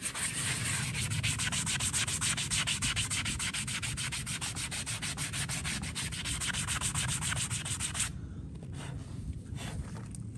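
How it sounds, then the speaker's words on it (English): A horse hoof rubbed with a sanding block makes a close, continuous rhythmic rasping scrape of quick strokes that runs for about eight seconds before tapering into softer, sparser rubbing. "Nice little sanding block so it looks nice and clean."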